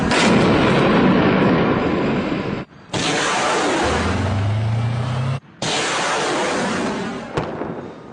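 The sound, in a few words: gunfire and airstrikes in battle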